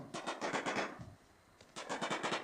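Rapid bursts of automatic gunfire in quick rhythmic volleys, a brief pause, then another burst, sounding like video game shooting.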